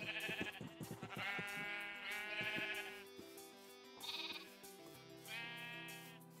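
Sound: sheep bleating in the video game Minecraft

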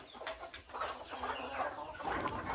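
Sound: broody desi hens clucking

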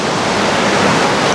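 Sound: waterfall cascade flowing beside a bridge

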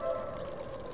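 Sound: filling a bucket with water in a video game (El Conde Lucanor)

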